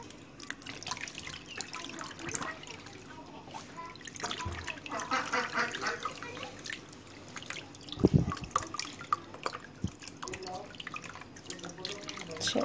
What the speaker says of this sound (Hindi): थोड़ा सा मलने के बाद आप पानी से इसको धो लें।